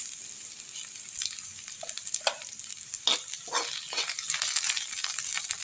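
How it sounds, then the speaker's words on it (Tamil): Onions sautéing in a pan for a spicy chutney, a continuous soft sizzle with repeated scraping and stirring strokes that grow busier toward the end, close and fairly quiet. "இப்போ வெங்காயத்தை நல்லா வதக்கி விட்டுருங்க."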